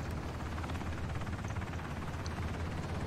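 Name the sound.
helicopter in Ring of Elysium video game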